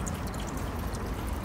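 Vodka poured into simmering red-fish soup (ukha) in a cooking pot, a brief steady liquid pour and splash over a dense, constant low bubbling background, fairly close.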